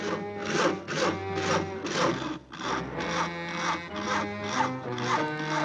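Rhythmic back-and-forth rasping of a hand saw biting through a tree limb, steady strokes repeating for several seconds, close by with no talking.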